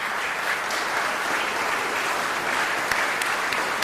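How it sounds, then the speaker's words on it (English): Civic association annual meeting audience applauding a regional bank president and staff, a dense, even roar of clapping sustained at steady volume from start to finish. "Join so we can give you some applause."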